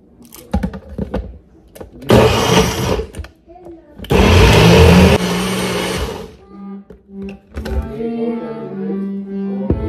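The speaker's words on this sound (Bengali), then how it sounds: "এবার গ্রাইন্ড করে নেব।" A kitchen blender grinds soaked quinoa with carrot and a little ginger in loud, steady bursts, stopping and restarting between runs while someone talks in the pauses.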